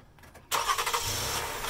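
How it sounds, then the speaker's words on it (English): A V6 car engine cranks on a small lightweight lithium LTO battery and catches quickly, settling into a steady, loud idle close by after a brief quiet moment. "Okay, we're gonna try to start the car."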